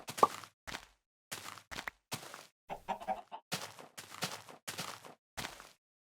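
Minecraft Beta 1.7.3 chickens clucking in a series of short, separate bursts with brief gaps between them, near and fairly clear, with no other sound and no talking.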